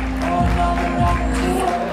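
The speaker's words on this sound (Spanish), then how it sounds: "escuche fuerte el aplauso para la aspirante Yasmín" Applause from a crowd at a big September 14 dance in Numarán, Michoacán, greeting contestant Yasmín Ayala, mixed with steady band music and general crowd noise throughout.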